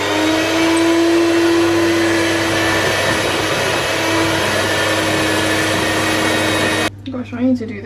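An electric mixer runs at medium speed, whisking red velvet cake batter, a loud steady whirring drone for several seconds that stops abruptly, followed by brief talking.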